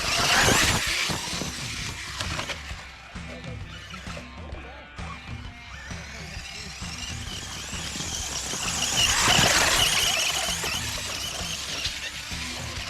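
A Traxxas Rustler VXL RC car speeds down a hill outdoors, its electric motor whining and tyres squealing as it rises to a louder rush near the end, with a sharp impact-like burst at the very start.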